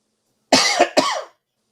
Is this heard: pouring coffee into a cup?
no